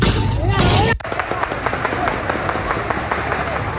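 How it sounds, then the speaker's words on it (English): Live gunfire at a street protest in Venezuela sounds as a rapid series of sharp pops over loud crowd noise and shouting voices. "Sounds like live shots."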